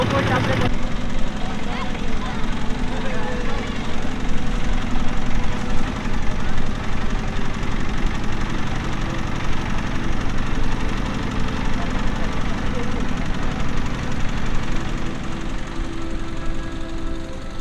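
A country boat's engine drones steadily as the boat departs on the monsoon-swollen Padma near Jalangi on the India-Bangladesh border, a loud, continuous, close motor hum with no breaks.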